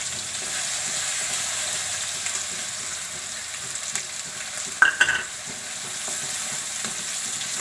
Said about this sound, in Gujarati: ડુંગળીને આપણે ગોલ્ડન બ્રાઉન જેવી થવા દેવું, લાલ જેવી થવા દેવું ડુંગળીને